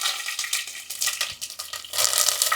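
Onions fry with curry leaves and dried red chillies in a pan, crackling and hissing loudly up close while being stirred, with bursts of spattering that swell toward the end.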